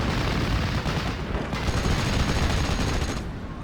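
Dense, continuous battle din from the Normandy 1944 video game Steel Division: artillery shelling blended with steady gunfire, loud and unbroken, without clear gaps between blasts.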